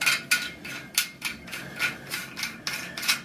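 Hand tightening a plastic toilet fitting into final position during a toilet installation, heard as a quick series of sharp ratcheting clicks and snaps in an irregular rhythm, close and fairly loud with no talk.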